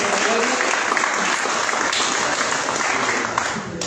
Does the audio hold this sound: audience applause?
yes